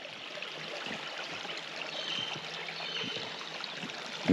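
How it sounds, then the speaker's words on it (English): Gentle, continuous babbling of a stream trickling over rocks beside the Bibbulmun Track, soft and steady with faint outdoor ambience and a brief bump at the end. "the sound of the water just bubbling its way through the rocks below"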